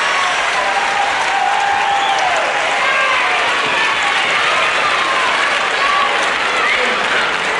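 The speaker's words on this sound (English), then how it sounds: "the young ladies there, are standing up and screaming their delight" A wrestling crowd at a bout's final-round decision applauds loudly and continuously, with young women standing and screaming shrill cheers throughout; the dense, steady noise stays close and full for the whole stretch.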